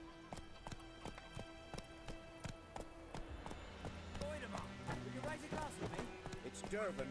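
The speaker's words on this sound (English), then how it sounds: "Horse! Horse, get out of my way." Rapid horse hoofbeats in The Witcher 3: Wild Hunt clatter in a steady galloping rhythm while voices talk over them and the horse briefly whinnies.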